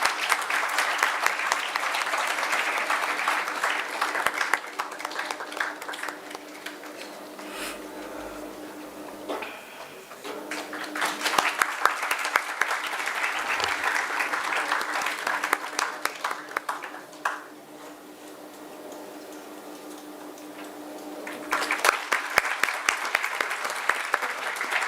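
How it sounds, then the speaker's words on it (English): Audience applause at an international health care symposium, with sustained clapping in bursts that rise, fade and swell again over about twenty-five seconds, plus a few faint voices. "keep clapping, everyone."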